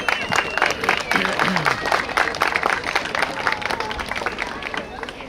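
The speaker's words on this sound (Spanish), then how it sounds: "Regálenme los aplausos, mi querido público." Dense applause from the audience at a jaripeo rodeo, a continuous rapid patter of many hands clapping outdoors, loud and steady throughout, with a faint tonal call underneath.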